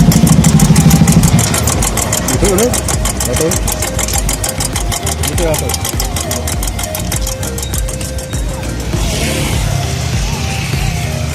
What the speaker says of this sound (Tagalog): Tulad itong isang motor na to, medyo iba na yata ang tunog.